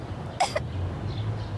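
A cartoon character gives a single short, hoarse cough over quiet background sound, then falls silent.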